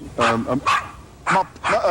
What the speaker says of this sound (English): Do you want me to call your dog for you?